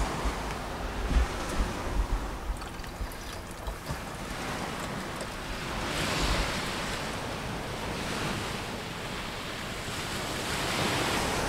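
Ocean surf rolls in continuously at Ellis Beach on the Cairns Northern Beaches, a broad steady wash of breaking waves with some wind buffeting the microphone and no voices.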